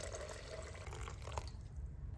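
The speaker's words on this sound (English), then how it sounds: "now I'm gonna pour 500 ml of boiling spring water over my herbs" Boiling spring water is poured over herbs including elderberries for an herbal infusion, making a steady, close splashing and trickling stream that runs throughout without speech.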